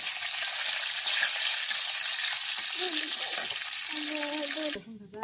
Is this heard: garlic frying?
yes